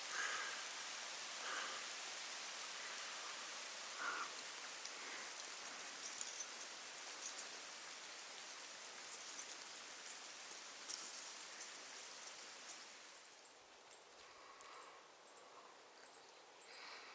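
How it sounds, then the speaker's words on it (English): Steady rain falls across a Nevada canyon near a trailhead, a dense even hiss with scattered louder drops and patters, easing slightly toward the end. "I'm almost to the trailhead, and it's raining."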